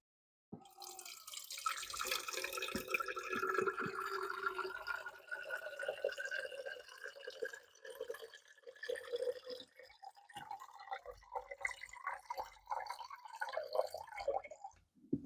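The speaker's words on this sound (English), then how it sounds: "I'm going to fill this about half full with water from my little jug I've got over here" Water poured from a small jug into a small pitcher, a quiet trickling stream whose pitch rises steadily as the vessel fills, close and faint, ending in a few light drips.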